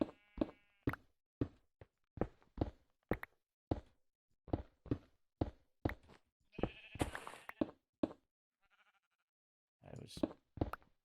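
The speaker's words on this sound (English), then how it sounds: "I was thinking I broke something, but I think it's a sheep." Sheep bleating in Minecraft, a rapid series of short, sharp bleats repeating in a steady rhythm, fairly close and clear, with a brief busier burst of game sound in the middle and a short pause near the end.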